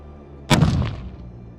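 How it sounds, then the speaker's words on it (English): A single loud rifle shot fired while hunting caribou in Alaska, a sharp close blast with a short booming decay, followed by quiet. "Should I shoot it again?"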